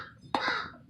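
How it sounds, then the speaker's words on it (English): A single harsh caw from a crow, close and sudden, ringing briefly before fading into quiet outdoor background. "Crow is having some words with me here."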